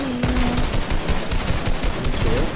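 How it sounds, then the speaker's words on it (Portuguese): Rapid bursts of video game gunfire crackle continuously over a dense, noisy background, loud and close, like an intense firefight. "Ele tá atirando em nós."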